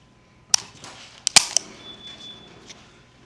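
An M9A3 pistol is worked through a function check, giving several sharp metallic clicks and snaps of the decocker and action, close and loud, spaced irregularly over a few seconds with no talking.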